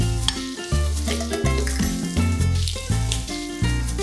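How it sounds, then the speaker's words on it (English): Vegetables and garlic sauté in a Ninja Foodi Possible Cooker Pro with a continuous sizzle, largely covered by loud background music with chords that shift every second or so. "We're going to saute this up till they soften."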